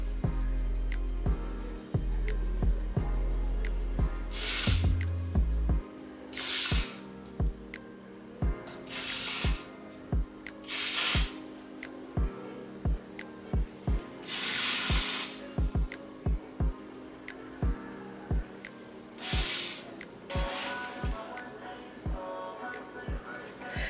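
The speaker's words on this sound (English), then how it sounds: "put another layer of spray" A spray can hisses onto a wig's lace in about seven short bursts spread irregularly, each a close, airy whoosh, with quiet handling noises between them.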